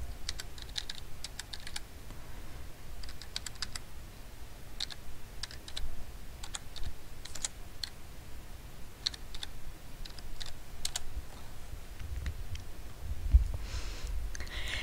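Steady run of computer keyboard typing as a library card number is entered into an online library catalog, quick irregular key clicks close to the mic throughout with no talking.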